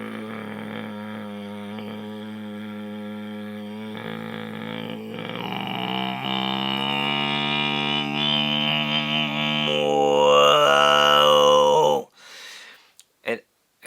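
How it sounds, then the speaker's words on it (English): One man's deep bass throat-singing growl holds a steady, rich drone that builds from gentle to harsh and forceful, louder toward the end, then breaks off into a few short breaths and sharp noises. "try going from like really, really gently growling to like extreme growling"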